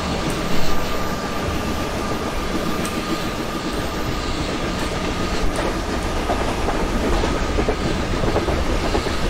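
A Sachkhand Express train gathering speed in the MSTS / Open Rails simulator, with a steady, loud rumble of rolling wagons and a continuous rail clatter running the whole way.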